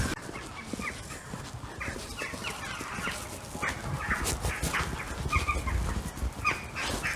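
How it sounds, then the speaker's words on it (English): Harsh, chattering jackdaw calls repeat in short bursts against steady outdoor background noise, moderately distant and mixed with other wildlife sounds. "decided that's a jackdaw"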